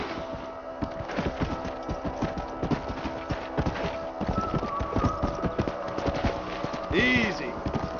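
Horses in Red Dead Redemption clip-clop steadily at a trot through most of the stretch, with a short whinny near the end, over a constant layer of game ambience and music.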